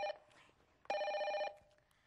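A telephone rings with two bell-like bursts, a short one and then a longer, louder ring, heard clearly alone against a quiet background.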